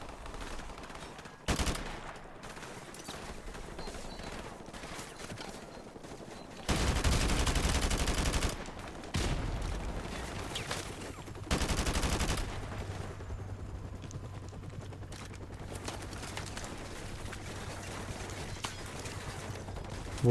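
Gunfire rattles through Call of Duty Modern Warfare Remastered: scattered single shots and short bursts, broken by two louder sustained volleys of automatic fire, with the shooting fading in and out between them.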